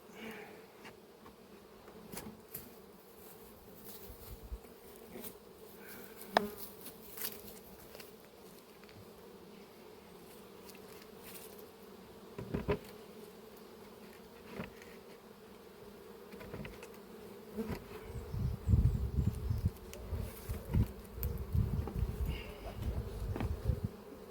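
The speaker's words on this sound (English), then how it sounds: "Absolutely lovely box of bees." Honeybees buzz in a heavy hive box at an apiary, a continuous droning hum with individual bees passing close and the buzz thickening and growing louder near the end, alongside occasional knocks and handling sounds.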